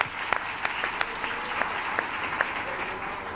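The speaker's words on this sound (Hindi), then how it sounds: "ताली बजा सकता है?" Audience applause at a church sermon, a steady wash of many hands clapping with a few sharper individual claps standing out, continuous throughout with no speech.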